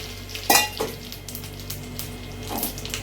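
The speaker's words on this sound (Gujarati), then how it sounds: "મીઠો લીમડો રાય ને જીરું બધું નાખી" Curry leaves, mustard seeds and cumin hit hot oil in a pressure cooker for dal dhokli, a sharp sizzling burst with spattering, then steady crackling frying with a few utensil clinks, close and without talk.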